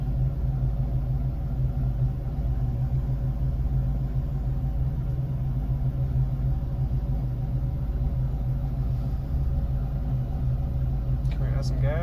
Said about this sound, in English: Maybe when it warms up, it starts idling a little more erratic.